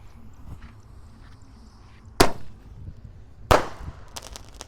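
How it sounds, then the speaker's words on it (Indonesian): Two sharp, loud bursts from a small Basoka Mini Sonic Boom roman candle firework, spaced about a second apart, each a crisp crack with a short fizzing tail, set against a quiet evening background. "Lanjut di sini ada Basoka Mini Sonic Boom pelontar Roman Candle tapi ukurannya kecil guys"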